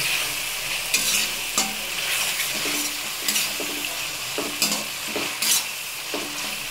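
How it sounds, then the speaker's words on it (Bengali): Spices and chana masala are sautéed in a pan to make chana masala with chicken, a utensil scraping and tapping in irregular strokes over a steady sizzle, close and alone without speech. "এবার আমি এটাকে কষিয়ে নেব"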